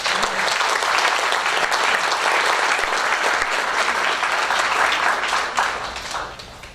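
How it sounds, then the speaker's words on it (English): Audience applause for student representatives at a school district board meeting, a dense, steady wash of clapping from many hands that holds for several seconds and then tapers off near the end. "We can go ahead and give them a round of applause."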